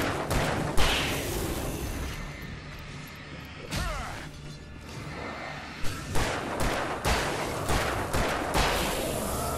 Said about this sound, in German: Ich schieße, aber ich muss nachladen.